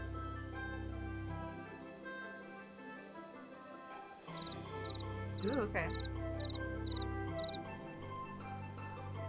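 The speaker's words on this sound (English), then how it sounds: "I'm hearing crickets." Crickets chirp steadily in the night woods of the Nancy Drew: Ghost Dogs of Moon Lake video game, with short repeated pulses over a constant ambient hum as a player speaks briefly.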